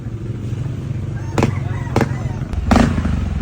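An Indonesian-style custom motorcycle engine idles close by during an exhaust sound check, broken by three sharp exhaust pops and revs.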